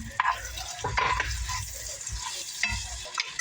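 Onion and garlic frying in a mix of butter and cooking oil, a steady close sizzle broken by a few louder scrapes and stirs in the pan, with no talking.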